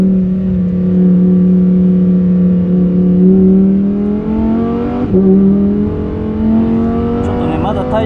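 A Lamborghini at speed on the Fuji Speedway track heard from inside the car: a loud, sustained engine and exhaust roar rising in pitch through the gears, with a shift partway through.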